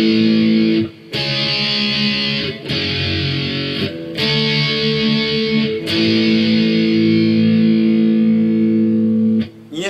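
Distorted electric guitar playing the closing solo section of a song, with sustained overdriven notes and brief pauses between phrases, loud and up close with no voices.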